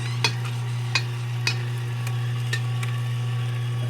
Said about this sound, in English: I'm just gonna scrape the last little bit here out of my bowl.